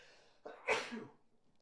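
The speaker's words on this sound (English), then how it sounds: "I sneezed." A single quiet sneeze, a short breathy intake followed by a sharp burst, with no talking around it.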